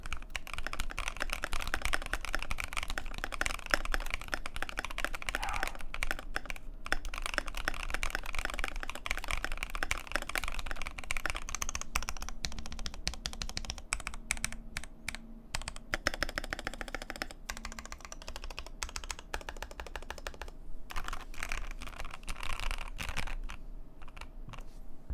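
Fast, continuous typing on a custom Asus ROG Azoth mechanical keyboard with long-pole switches, crisp close clacks in a dense, steady stream with no talking.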